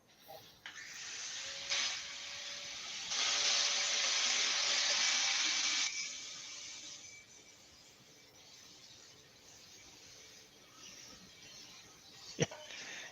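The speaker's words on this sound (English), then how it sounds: "leave the hoover running behind you there and get rid of the pile of shavings on the floor" A hoover vacuum cleaner runs in a woodturning workshop, clearing wood shavings off the floor. It makes a steady, airy hiss that swells louder for a few seconds and then settles back to a softer whoosh.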